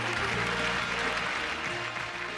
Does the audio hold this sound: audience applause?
yes